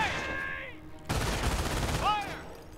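Gunfire in the World War II strategy game Company of Heroes, a dense burst of shots crackling for about a second amid the game's radio-style unit voices and beeps, fairly loud.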